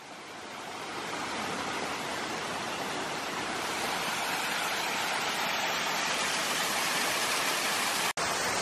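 A waterfall at Mae Kampong near Chiang Mai during the dry season, a steady broadband rush of falling water that swells over the first second and then holds even and close, briefly cut near the end.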